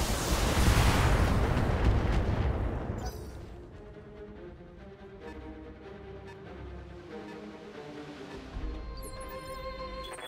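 Mech weapons fire in the Battletech video game, opening with a loud, roaring explosive blast that fades after about three seconds into quieter game music with a smaller burst near the end.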